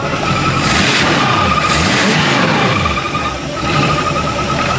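An old big block boat engine revs hard and continuously, a loud roaring drone with rising and falling pitch sweeps from repeated throttle blips, close and dominant throughout.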